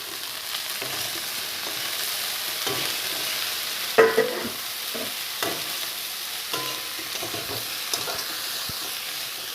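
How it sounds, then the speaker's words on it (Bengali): Dhekia greens mixed with jackfruit seeds fry in hot oil, giving a steady close sizzle with scraping stirs and a few sharper spatula knocks throughout. "দুটাকে ভালো করে মিক্স করে নিয়ে এটা ভাজা করছি।"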